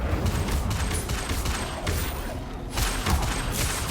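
Incendio fire spell cast during combat in Hogwarts Legacy, a dense burst of whooshing, crackling impacts and thuds running continuously and loud throughout.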